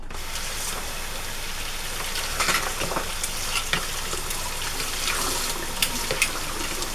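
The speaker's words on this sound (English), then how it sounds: "I'm gonna rinse this out." Running water rinses a dish at a sink, a steady hissing stream with a few light clatters and splashes as the dish is handled, fairly close.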